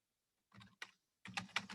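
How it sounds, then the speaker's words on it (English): Someone typing on a computer keyboard, entering a username: short bursts of quiet key clicks, a few taps, a pause, then a quicker cluster, faint and close in a quiet room. "I'm typing it in for you."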